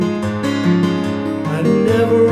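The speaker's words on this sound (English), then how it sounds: "Or the other thing you can do is you can basically Travis pick it." Acoustic guitar fingerpicked in a Travis style, accompanying a folk song. A steady alternating bass runs under ringing chord tones, played close and fairly loud with no voice over it.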